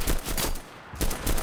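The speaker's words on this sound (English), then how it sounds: "Now the Kurtz does start off in single fire." A Kurz rifle fires single shots in the World War II shooter game Enlisted. Several sharp, loud reports come in two quick clusters separated by a short pause, with no talking over them.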